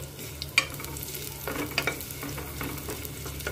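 Browned medium onions going into a hot pan for Nawabi sabut moong, sizzling steadily while a spoon stirs and scrapes, with a few sharper clinks and rustling bursts close by; no voices.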